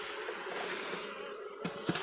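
A steady, dense buzz of many Buckfast honeybees at a polyurethane foam hive fills the air, close and continuous, with a few faint knocks near the end.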